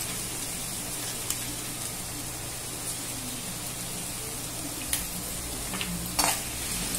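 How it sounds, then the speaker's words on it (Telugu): Chopped capsicum pieces with salt stirred in a frying pan, a steady soft sizzle with occasional sharp utensil clinks against the pan. "దీంట్లో మనం కట్ చేసి పెట్టుకున్న క్యాప్సికమ్ ముక్కలు వేసి చక్కగా కలుపుకోవాలండి"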